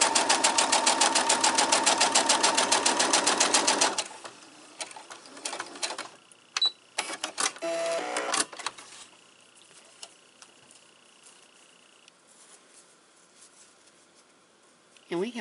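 A sewing machine stitches a four-patch quilt block in a fast, even run of needle strokes for several seconds, then stops; quieter handling noises and clicks follow.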